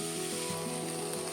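Boiled chickpeas and peas fry in a spice paste, giving a steady close sizzle with soft stirring scrapes throughout, no voices.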